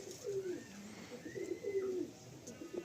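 Pigeons in a loft coo softly in repeated throaty rolls, several low calls overlapping at close range, with a faint chirp in the quiet background.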